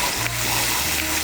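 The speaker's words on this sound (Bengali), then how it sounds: "মিশিয়ে নিচ্ছি আদা বাটাটাকেও তেলের সঙ্গে মিশিয়ে নিয়েছি।" Ginger paste is stirred into hot oil in a pan, making a soft continuous sizzle with light scraping, close and fairly quiet.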